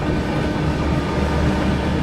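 Bihar Sampark Kranti Express train running past a station on the route near Aligarh, a loud steady rumble and roar of wheels and carriages held constant for the whole stretch, close and continuous with no speech.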